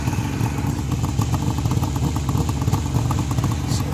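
A 1973 Suzuki GT550 motorcycle engine idling steadily nearby, a loud, even, rattly two-stroke burble that holds constant throughout with no revving.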